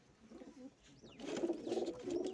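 A pigeon coos softly close by, a few low throaty rolling coos growing slightly louder in the second half, with no talk.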